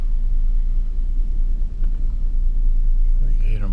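A Cadillac CTS being driven around the block, its engine and road rumble a steady, loud low drone throughout, with a brief swell and a faint voice near the end.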